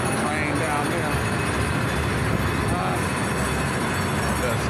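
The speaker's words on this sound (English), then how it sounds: "Train down there." Train passing below Oracle Park in San Francisco, heard as a steady, loud rumble and roar of rail traffic filling the whole moment, with city noise mixed in and no clear breaks.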